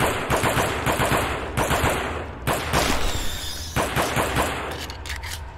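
Bursts of gunfire from a pistol in the video game Aliens vs Predator (2010): sharp repeated shots in rapid clusters with short pauses between them, loud and close, with no talk.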